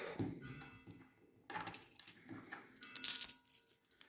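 Several 2-euro coins dropped by hand into a paper budget envelope, giving a quick run of faint metallic clinks and taps in close, quiet surroundings with no talk.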